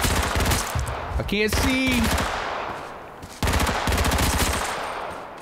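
Loud, rapid automatic gunfire in the survival shooter H1Z1, fired in tight bursts that stop midway and then resume, with a voice briefly shouting over the shots.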